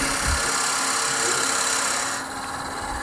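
A wood lathe spins at roughly 300-400 RPM while a wooden box is hollowed out, giving a steady, fairly loud machine drone with a continuous cutting hiss that holds level and eases slightly near the end.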